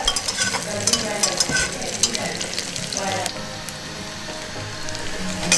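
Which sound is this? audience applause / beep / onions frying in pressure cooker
onions frying in pressure cooker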